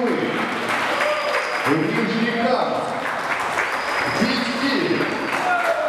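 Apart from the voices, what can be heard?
audience applause at a kickboxing tournament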